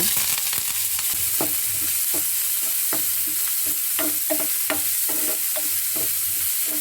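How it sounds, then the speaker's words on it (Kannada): Mustard seeds, chopped onion and green chillies frying in hot oil in a pan for okra palya, a continuous loud sizzle with scattered pops and crackles of the seeds, close up with no talking. "ಸಾಸಿವೆ ಹಾಕ್ಕೊಳ್ಳೋಣ ಈರುಳ್ಳಿ ಹಸಿಮೆಣಸಿನ್ಕಾಯಿ ಹಾಕ್ಕೊಳ್ಳೋಣ"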